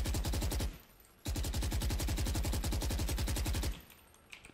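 Valorant rifle spraying in two long full-auto bursts of rapid, evenly spaced shots, loud and close, with a short pause between them and quiet shuffling after.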